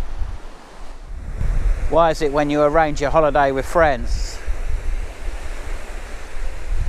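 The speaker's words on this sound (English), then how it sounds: "this is Sennen Cove, beautiful sea here" Sea waves breaking on the beach at Sennen Cove, Cornwall, a steady broad surf wash with wind noise on the microphone, while someone speaks over it for a couple of seconds in the middle.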